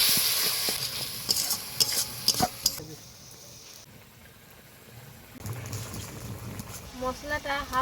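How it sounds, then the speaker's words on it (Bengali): A spice paste of ginger, salt, turmeric and Kashmiri chili powder fries in a pan with a splash of water, sizzling and scraping under stirring, with bubbling and sputtering toward the end. "একটু জল দিয়ে ভালো করে মশলাটাকে কষিয়ে নেব।"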